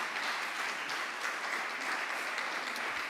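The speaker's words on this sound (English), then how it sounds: "You can clap for that." An audience at a public discussion on crime and punishment claps continuously, a soft, even wash of many hands at moderate distance with no voices over it.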